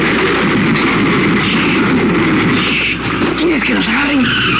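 A car engine revs with screeching tire skids in an early-1980s Peruvian television commercial, a loud continuous wail under shouting voices.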